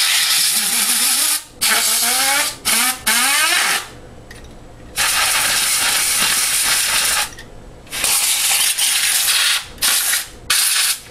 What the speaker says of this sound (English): we're going to take our can of air and we're going to spray out the fan